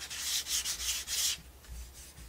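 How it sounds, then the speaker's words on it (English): Short back-and-forth strokes of sandpaper rubbing on wood, about four quick scratchy passes close up, then fainter rubbing as the strokes trail off. "So I'll sand that down just a little bit."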